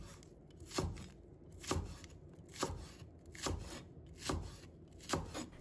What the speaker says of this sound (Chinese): 再准备一段大葱，也把它切成片。